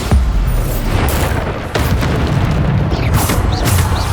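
Bombarda spell blasts go off during combat in Hogwarts Legacy, loud booming bursts landing in quick succession over a dense, noisy battle soundscape with sharp transients.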